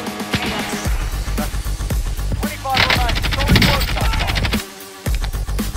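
Rapid automatic gunfire in the mobile shooter Call of Duty Mobile, loud bursts of shots with a few brief pauses between them and a voice heard now and then.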